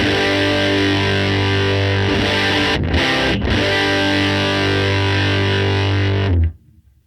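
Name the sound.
cranked amp on the Tone Master Pro, treble and gain all the way up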